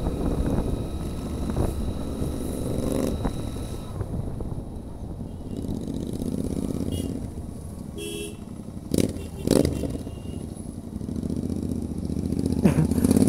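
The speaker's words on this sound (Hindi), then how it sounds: "क्या आवाज है भाई, इसका एग्जॉस्ट निकाला हुआ है, काफी ज्यादा मस्त आवाज आ रहा" Motorcycle engine running with its exhaust removed during a Sunday drag ride in the Bagru hills, a steady loud rumble with a few sharper revving bursts near the middle, outdoors with wind.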